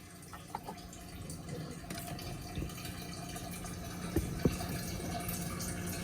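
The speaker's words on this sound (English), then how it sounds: "you can hear the water trickling in there." Water trickles and splashes steadily into a 75-gallon tank on a boat, filling with reverse osmosis water, a soft continuous wash with a few faint drips and knocks.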